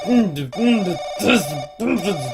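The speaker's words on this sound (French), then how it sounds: "téléphone qui me pète les oreilles depuis un bon petit moment" In the horror video game Paranoiac, a telephone rings loudly and insistently in repeated bursts with brief gaps, close and harsh, over a steady tonal hum.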